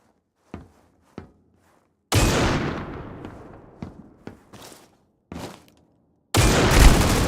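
AUG rifle fire in the shooter game C-OPS comes as sharp single shots, then long loud bursts with quick shots between them, separated by short silences.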